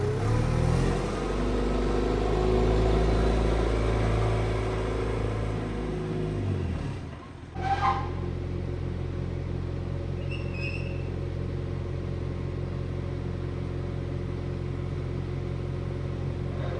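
A truck cruises along a highway with its windows up, giving a steady, close engine and road rumble throughout, with a brief dip partway before the drone resumes.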